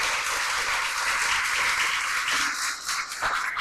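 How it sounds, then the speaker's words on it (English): Audience applause honoring former military members at a Violins of Hope event: full, lively clapping from a large crowd, easing slightly near the end. "Let's give them a big round of applause."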